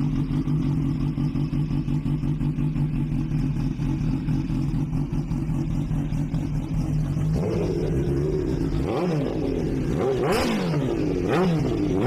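A Kawasaki H2 motorcycle engine idles with a steady, loud rumble, then revs sharply several times, the pitch rising and falling with each throttle blip.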